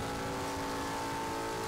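A race car engine in the sim racing game rFactor pulls hard down a straight, a steady, sustained droning tone with layered harmonics, moderately quiet and alone.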